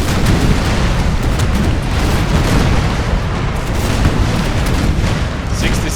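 Frigate cannon fire in Napoleon Total War, heavy booming broadsides rolling into one another over a continuous loud rumble of naval battle.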